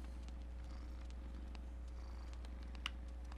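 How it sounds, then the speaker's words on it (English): A cat purrs steadily and close up, a low rhythmic rumble continuing unbroken, with a single faint click near the end. "you purr loud cat"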